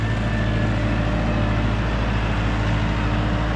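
Massey Ferguson 5430 tractor with a mechanical-pump diesel engine idles steadily, a loud continuous low rumble and exhaust drone close by, unchanging throughout.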